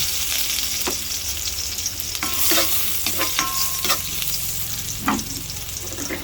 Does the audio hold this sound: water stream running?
no